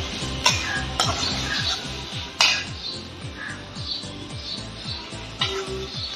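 Ginger being sautéed for an egg korma, with a spatula repeatedly scraping and clinking against the pan in a steady stirring rhythm, close and clear, while a faint sizzle runs underneath.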